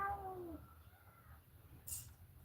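A cat meows once near the start with a falling, harmonic cry, followed by low room rumble and a brief bright noise later, no talking.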